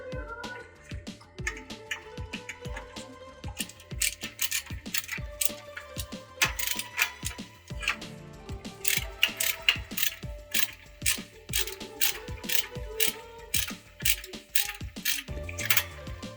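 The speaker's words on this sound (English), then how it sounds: "I'm using this ratcheting Milwaukee hand screwdriver." A ratcheting Milwaukee hand screwdriver turns a fastener on a kids' bicycle during a tube and tire change, giving bursts of rapid metallic ratchet clicks in repeated strokes with brief pauses, close by and without talk.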